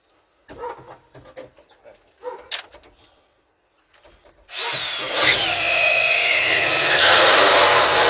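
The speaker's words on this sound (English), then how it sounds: "Drill a hole." A power drill starts up loudly after a few faint knocks and handling noises, then whirs steadily and close for several seconds inside an Astro van, its pitch shifting slightly as it bores a hole.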